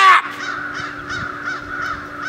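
A flock of birds calls loudly overhead with harsh, crow-like caws repeating in an uneven rhythm, close and dominant, with no talking.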